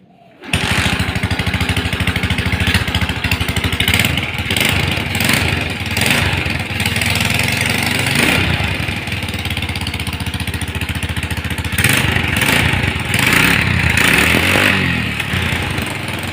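A Suzuki Smash Titan motorcycle engine idles steadily and loudly up close, its rough putter holding a constant pace throughout with slight surges.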